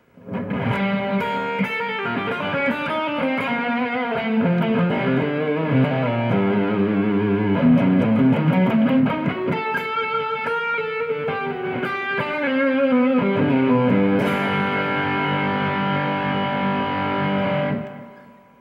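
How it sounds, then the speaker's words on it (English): An electric guitar played through an echo pedal with low mix, high repeats and slowed time, so notes smear into a reverb-like wash; a melodic line of single notes and chords rings on for about eighteen seconds with no talking. "to create more of a reverb effect than an actual echo"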